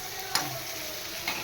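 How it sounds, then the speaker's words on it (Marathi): Chillies are sautéed in hot oil for a tempering. A steady, close sizzle runs throughout, broken by two brief scraping stirs. "या फोडणीमध्ये ही मिरची परतवून घेते मी."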